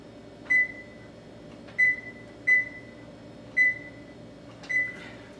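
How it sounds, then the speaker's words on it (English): A kitchen oven's control panel beeps five times in a steady, spaced sequence as the timer and a 325-degree temperature are set, each beep short and clear over a low room hum. "I'm gonna set my timer, I'm gonna set the temperature on my oven for"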